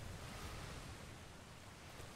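Ocean waves in the video game Atlas make a steady, faint wash of surf and wind-like noise with no distinct breaks, heard alone.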